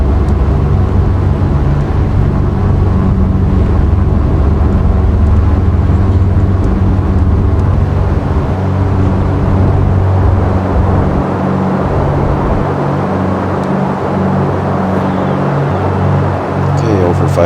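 An aircraft engine in the X-Plane 12 flight simulator roars steadily at full throttle during a runway takeoff roll, loud and continuous, with the tone shifting slightly as speed builds.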